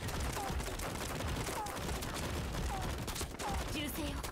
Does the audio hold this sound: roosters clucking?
no